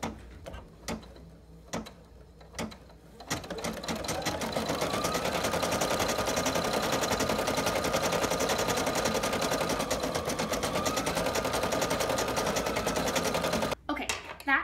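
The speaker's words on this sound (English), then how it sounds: "Okay, that just finished embroidering." Embroidery machine stitching a felt feltie, starting with a few clicks and taps before settling into a steady, fast, even mechanical needle rhythm that runs close and continuous, then stops abruptly.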